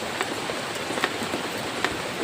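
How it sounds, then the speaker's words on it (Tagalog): Steady rain falling outdoors, a continuous even patter with occasional louder drops, at moderate level and no voices. "pahina ng pahina yung ulan tol."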